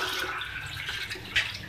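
Water poured from a glass into a cooking pot of half a kilo of plums for a summer sharbat, a close, splashy gush with a brief louder slosh near the end.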